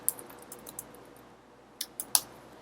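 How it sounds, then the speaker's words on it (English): Typing on a computer keyboard in a quiet room, a few scattered key clicks in two short bursts, close and fairly soft. "now I can come in here and type in whatever I want."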